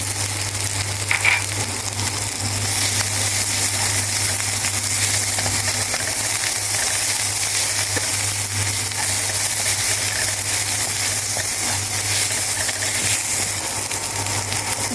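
Sliced dried tomatoes fry with browned onion in a pan, giving a steady soft sizzle under a low constant hum, with no talk.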